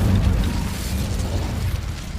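An Incendio fire spell blasts in Hogwarts Legacy, a steady, loud rushing burst with a rumbling low end and crackling, flaring texture throughout, heard alone without talk.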